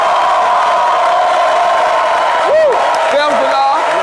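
Live studio audience on a television set welcoming a Congolese singer, with a crowd cheering and clapping under loud amplified talk and a few whoops rising near the end.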